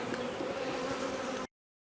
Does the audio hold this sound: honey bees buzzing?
yes